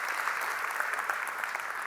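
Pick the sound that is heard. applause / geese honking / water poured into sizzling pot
applause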